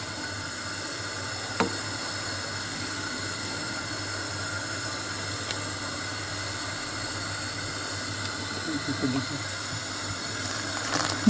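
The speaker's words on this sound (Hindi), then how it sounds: "इसके ऊपर ऐसे ऐसे करके दूध डालते जाएं" Milk is poured bit by bit over ras malai in a pan, giving a soft continuous liquid wash with faint splashes. A couple of small clinks come through, and no one talks.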